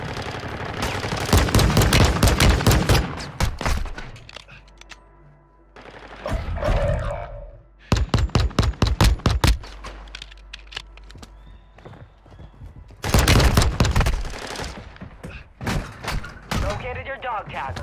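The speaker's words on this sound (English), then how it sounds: "Oh, that was his fucking pistol." Gunfire bursts in a video game firefight, including pistol shots, coming in dense rapid clusters with quieter gaps between them, mixed with hoof-like clattering and game effects while people talk over it.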